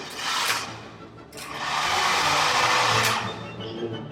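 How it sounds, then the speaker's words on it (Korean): A hair dryer blows with a steady rushing whir, its airflow surging and dipping a few times as it is moved or switched. "드라이기가 잘 되나 안 되나?"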